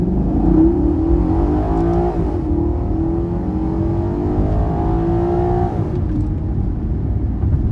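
A Maserati GranTurismo with a six-speed ZF transmission and 454 horsepower accelerates hard from a standstill, its engine loud and close, climbing through the revs with gear shifts as the pitch rises and drops.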